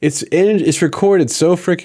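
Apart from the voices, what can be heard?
No everyday noise stands out behind the speech.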